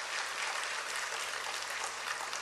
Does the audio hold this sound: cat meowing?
no